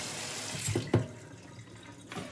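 Tap water running into a sink while a cutting board is washed with soap, a steady faint splash with a couple of brief clunks as the board is handled.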